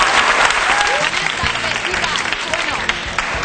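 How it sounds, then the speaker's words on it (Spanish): A television talk-show studio audience bursts into loud, sustained applause as three guests are welcomed onstage, the clapping steady throughout with a little background voice mixed in. "un aplauso para Camelia"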